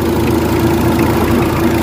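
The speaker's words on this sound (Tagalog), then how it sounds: "So medyo unti-unting nag-i-stable na yung andar ng makina." A car engine, recently treated with an engine additive and gradually stabilizing, idles with a steady, close, loud rumble and a constant low hum, no talking.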